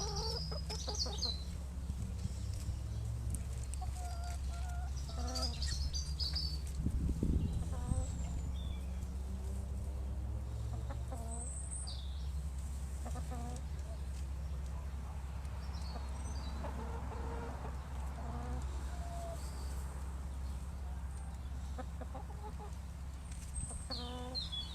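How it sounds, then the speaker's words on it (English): Chickens cluck softly at a community garden, scattered calls over a steady low background hum, with a person talking nearby. "the chickens are very happy and quite oblivious to all that's going on"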